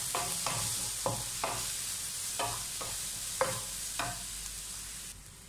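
Garam masala and ground pepper being sautéed for butter chicken, with a steady background sizzle broken by about eight sharp spoon scrapes and stirs against the pan at an irregular rhythm.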